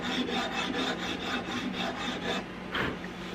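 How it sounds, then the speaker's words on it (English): Wood on a Belgian Browning shotgun stock being sanded down by hand, a steady, close scratchy rasp in repeated back-and-forth strokes with no talk. "it's best just to sand down that section"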